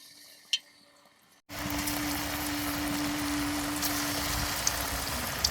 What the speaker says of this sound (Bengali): এবার তেলে বড়াগুলো দিয়ে দিলাম।